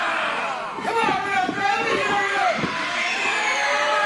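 Loud crowd noise from a packed wrestling event at a boxing venue roars steadily throughout, with cheering and chatter blended into a dense wash while a commentator talks over it.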